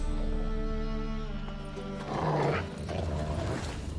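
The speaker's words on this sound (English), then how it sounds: "Just beware of the dogs." Dogs in The Witcher 3 video game growl and snarl over a constant low game ambience, a rougher burst swelling midway and then trailing off.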